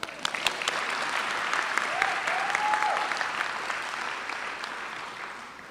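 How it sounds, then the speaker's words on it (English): Loud applause from the crowd at a 2023 high school graduation ceremony, broad and steady clapping that swells and slowly tapers, with a brief whistle or cheer rising above it. "Another round of applause."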